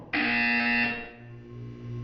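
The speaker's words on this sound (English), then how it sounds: "When you hear the buzzer, look up at the ceiling." A loud, harsh electronic buzzer from the game Portal 2 sounds for about a second, then cuts to a lower hum.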